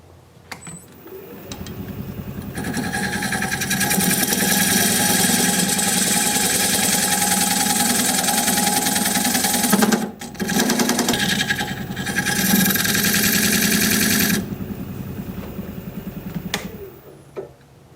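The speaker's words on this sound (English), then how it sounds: "I'm going to use this recess tool. Cut the dovetail on the edge here." A wood lathe spins a hard, knotty wood root while a recess tool cuts a dovetail on its edge, making a loud, continuous grinding whir that breaks off briefly midway, then resumes before spinning down.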